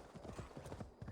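Rapid clip-clop of horse hooves in Assassin's Creed Valhalla, a quick even gallop rhythm, quiet and close, with no talking over it.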